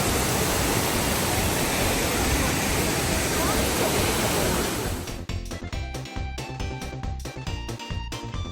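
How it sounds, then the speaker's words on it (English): Kuang Si Waterfall in Laos roars as a loud, dense, continuous rush of falling water for about five seconds, then the wash drops away and a voice talks over a quieter outdoor background. "today we're at the Kuang Si Waterfall here in Laos."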